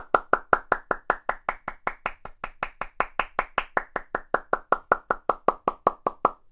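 Flamenco palmas: a steady, even run of about thirty sharp hand claps at a brisk pace, close and crisp, with no talking over them.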